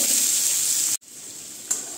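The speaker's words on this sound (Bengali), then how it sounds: "পেঁয়াজটা আমাদের হালকা করে একটু ভাজা হবে।" Chopped onions fry in hot oil with a close, steady crackling hiss that cuts out sharply for a moment, then returns softer with a small burst of sizzle.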